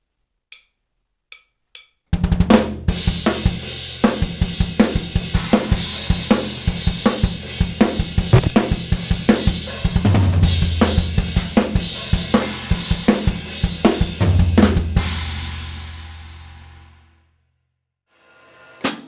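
A rock drummer plays a groove on a full drum kit in a studio, with a few count-in clicks before punchy kick, snare and cymbal hits drive a steady, busy pattern that rings out and decays at the end.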